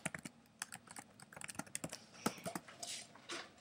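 Typing on a computer keyboard, with quick irregular clusters of close, crisp key clicks and a few louder strikes, heard alone in a quiet room.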